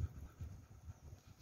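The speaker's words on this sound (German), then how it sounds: "Neben mir ist noch mein Hund" A dog pants steadily beside a farmer out in the fields, a soft, quick rhythmic breathing close by with no one speaking over it.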